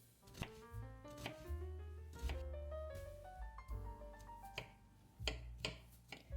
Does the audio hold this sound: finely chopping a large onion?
yes